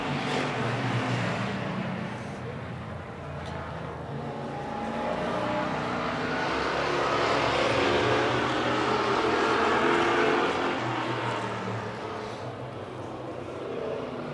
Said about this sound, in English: There's the green flag. We are hobby stock racing right now.